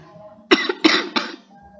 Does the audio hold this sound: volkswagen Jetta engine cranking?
no